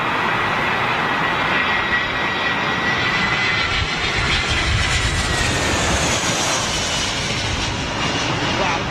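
Airbus A350 jet airliner arriving on a windy day at Heathrow, a steady broad roar of engine noise and wind rush that holds loud throughout without letting up.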